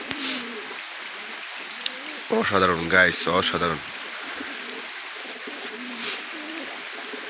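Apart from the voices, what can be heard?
pigeons cooing in a loft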